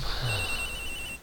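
A steady electronic phone ring from the video game Phoenix Wright sounds for about a second, clear and unbroken.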